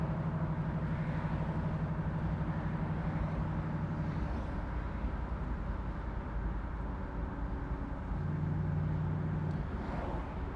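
A 1968 Chevrolet Camaro convertible with a 327 V8 cruises along the road, its engine a steady, smooth low hum under constant road and wind noise, with no talking.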